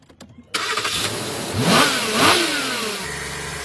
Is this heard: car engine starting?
yes